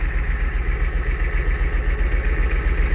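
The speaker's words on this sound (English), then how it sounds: "right there's the low idle" A Ford F250 truck engine running at low idle, a steady deep rhythmic rumble with an even low pulse, close and continuous, no voices.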